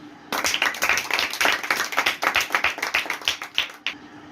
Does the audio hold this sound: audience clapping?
yes